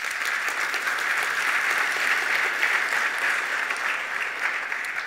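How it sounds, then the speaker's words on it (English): A conference audience claps steadily and loudly throughout, a dense wash of applause with no voices standing out. "So a little round of applause for them."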